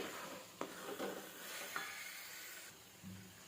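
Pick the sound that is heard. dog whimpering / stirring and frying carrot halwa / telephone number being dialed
stirring and frying carrot halwa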